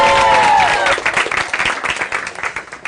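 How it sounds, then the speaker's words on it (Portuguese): A school audience at Colégio Estadual Imigrante claps for a guest, a burst of dense applause that thins into scattered claps, with a faint voice at the start. "Uma salva de palmas para Carlos Henrique Iotti."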